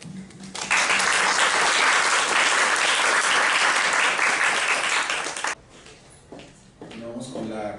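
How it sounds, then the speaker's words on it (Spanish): Audience applause for a professor at a coastal microbiology conference, a dense, loud burst of clapping that holds steady for about five seconds, then drops away abruptly as scattered claps and a voice follow. "Aplauso para la profesora Jenny Leal, por favor."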